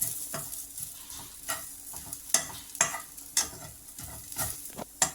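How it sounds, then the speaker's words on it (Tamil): Grated coconut and chopped coriander are stirred and sautéed in a pan, giving a soft continuous sizzle broken by repeated scraping strokes of the spoon at an uneven rhythm, close and without talk. "துருவி வச்சுருக்க தேங்காவை சேர்த்துட்டு நல்லா வணக்கிக்கலாம்"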